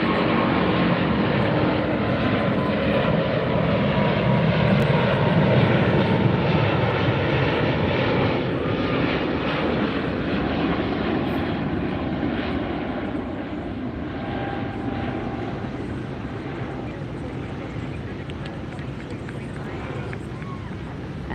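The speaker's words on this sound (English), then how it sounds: "British Airways A380." A British Airways Airbus A380 jet takes off at LAX at sunset, a loud, steady roar filling the whole span and easing off slowly toward the end, with voices faintly underneath.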